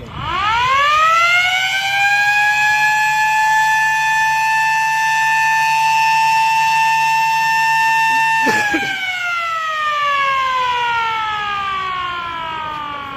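A civil defense siren newly installed on the roof of a civil hospital in Tarn Taran wails during a mock drill, rising to a loud sustained tone, dipping briefly, then slowly falling in pitch, with voices faintly underneath.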